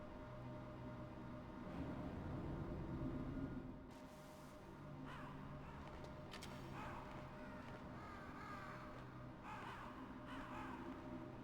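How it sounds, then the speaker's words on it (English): Northern ravens cawing in the video game Metal Gear Solid, several harsh, separate calls coming in bursts over a low, steady ambient hum, with no talk. "There are a lot of crows around here. Those aren't crows. Those are northern ravens."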